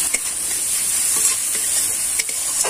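Spice paste fries in oil in a pan for a chela fish and potato curry, a loud continuous hissing sizzle up close with a few stirring scrapes, no voices.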